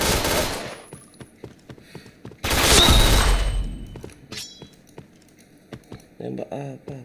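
Gunfire from the video game Point Blank: sharp, rapid shots in bursts, with a loud dense volley in the middle and scattered single cracks, and a voice briefly heard near the end.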